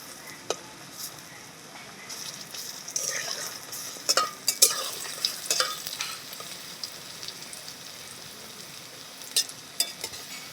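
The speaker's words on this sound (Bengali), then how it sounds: "উল্টে পাল্টে ভালো করে ভেজে নিয়েছি" Vegetarian bamboo shoot fritters crackle in hot oil as they are turned, giving a soft, steady sizzle broken by clustered utensil clinks and spatters, busier in the middle and quieter toward the end.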